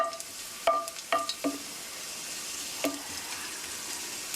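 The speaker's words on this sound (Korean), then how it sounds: "이렇게 옆으로 팬을 기울이셔서 이렇게 기름에 마늘 향이 될 수 있도록 이렇게 마늘이 노릇노릇할 때까지만" Garlic fries in a small pool of oil in a tilted pan for pear fried rice, a quiet, even sizzle broken by a few sharp clinks and taps of a utensil against the pan.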